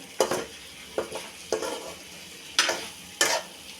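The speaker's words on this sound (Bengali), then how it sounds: "সব কিছু দিয়ে আলু কষিয়ে নিলাম ভালোভাবে" Potatoes sautéing with ginger and spices in a pan: five distinct spatula scrapes and stirs, each followed by a short sizzling hiss, spaced irregularly over steady low frying noise.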